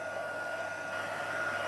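A hair dryer blows steadily on its second setting over a piece of card, a close, continuous airy whir with no break.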